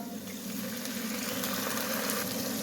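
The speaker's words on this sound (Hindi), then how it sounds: "अब इसमें थोड़ा सा पानी का छिंटा लगाएंगे, ये वही पानी है जो दाल वाला था।" Garlic, ginger and chilli paste fries in a pan after a splash of water saved from cooking chana dal, giving a loud, steady, close sizzle and hiss that barely changes throughout.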